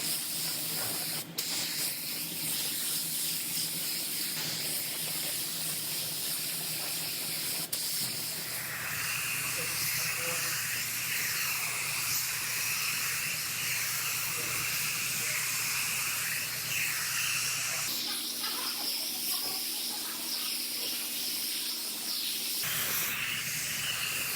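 Spray gun laying epoxy primer onto a Toyota RAV4 lift gate, a steady airy hiss in long passes separated by brief pauses, close and even in loudness.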